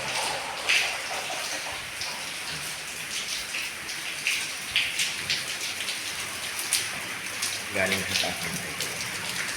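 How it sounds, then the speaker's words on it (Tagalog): Steady rain pours down, a dense continuous hiss with scattered drop impacts, while someone speaks briefly over it. "Lakas ng ulan."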